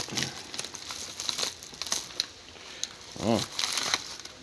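A plastic bag is crinkled and pulled open up close, giving a run of irregular rustles and crackles with one sharper crunch near the end.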